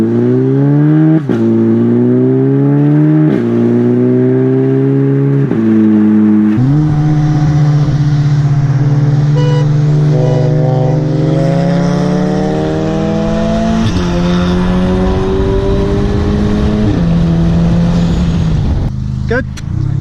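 A Mk6 Volkswagen Jetta SE with an APR Stage 2 tune accelerates hard, its engine note climbing through several gears with sharp drops at each shift, loud and close from inside the car, with voices talking over it.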